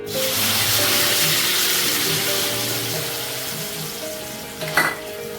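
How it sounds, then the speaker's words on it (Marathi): Loud, continuous sizzling as spinach is added to a hot oil tempering, with a brief burst of sharper crackling near the end. "आता या फोडणीमध्ये हाटून घेतलेला पालक घालून घ्यायचा आहे."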